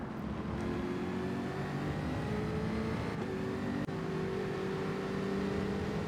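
Gr.4 V8 race car engines roaring in Gran Turismo, a loud sustained engine drone with several harmonic lines shifting as cars run close together, including a Mercedes and a Mustang, with a brief dip near the end.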